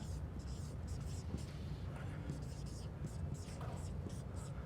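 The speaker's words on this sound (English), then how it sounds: "I'll write this one down" A pen or pencil writes a word on a surface with a steady, scratchy stroke under continuous low background noise and faint talk.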